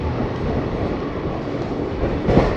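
Passenger train on the Patna to Puri run pulling out of Bakhtiyarpur Junction, a steady near rumble of wheels and carriage noise with rising clatter toward the end, no voices.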